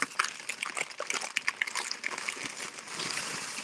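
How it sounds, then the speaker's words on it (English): Liquid poured into a cooking pot of boiling water, a close sloshing and splashing gush that settles into a steady pour, no talk. "now she's going to pour this into the pot"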